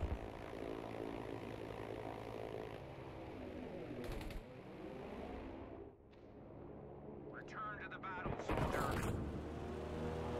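Aerial strike aircraft in Battlefield V, a droning propeller engine roaring past with booming impacts and battle noise, loud and close, with voices murmuring faintly beneath.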